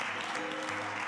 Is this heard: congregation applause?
yes